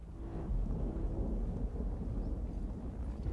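Deep rumbling thunder rolls continuously through a storm in the video game The Cycle: Frontier, loud and low without any speech.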